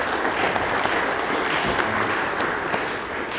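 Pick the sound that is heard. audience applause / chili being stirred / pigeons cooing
audience applause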